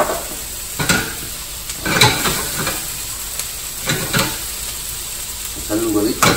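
Food fries in oil in a pan for a breakfast, a crackling sizzle punctuated by sharp scrapes and taps of a utensil against the pan, with brief murmurs of a voice at times.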